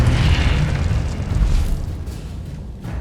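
A Confringo spell blast in Hogwarts Legacy, a loud, deep booming explosion that rumbles and slowly fades over a few seconds, with faint crackling debris trailing after it.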